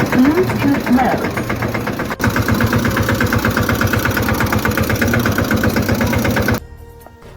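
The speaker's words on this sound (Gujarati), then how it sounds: "ચાલો તો આપણું ટ્રેક્ટર આવી ગયું." A Mahindra Yuvraj tractor engine runs close by with a steady, rapid chugging pulse that holds loud and even for most of the stretch before cutting off near the end; a voice is heard briefly at the start.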